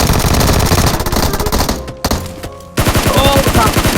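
Loud, rapid automatic gunfire in the video game PUBG, with dense bursts of shots that pause briefly and then start again.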